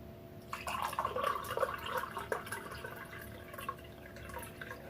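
A homemade fermented drink, strong enough to have blown its top off, is poured from a bottle into a glass, producing a soft, faint trickling splash that lasts a few seconds in a quiet room.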